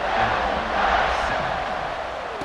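Crowd roaring in an American college football video game with the Illini, as the kickoff is set up. The sound is a steady, loud, continuous stadium wash with no clear break for the whole stretch.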